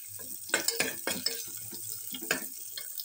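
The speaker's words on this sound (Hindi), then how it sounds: "अब सारे मसाले अच्छे से भून लेंगे हम।" Spices and grated ginger frying in oil in a pan for kadhi pakoda, with repeated stirring scrapes and clinks of a spoon against the pan over a steady close sizzle, no voices.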